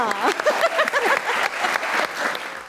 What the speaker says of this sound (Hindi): ढेर सारी तालियां